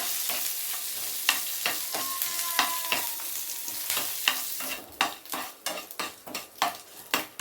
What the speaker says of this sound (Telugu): ఇప్పుడు కడిగిన కరివేపాకు రేఖలు కొన్ని వేస్తున్నాను. ఇవి కూడా బాగా వేగాలి.